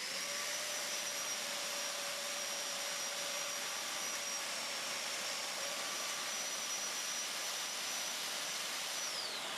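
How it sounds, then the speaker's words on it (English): A plunge saw cuts into a board with a steady, loud, high-pitched whine that runs unbroken throughout, its pitch dipping slightly near the end. "And when I make that plunge cut, it'll be exactly in the middle of my board."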